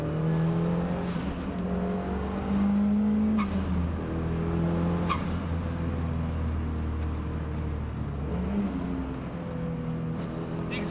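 A turbocharged Mazda Miata with a Flying Miata muffler driving, its subdued engine drone rising and falling in pitch through gear changes, steady and close from inside the car.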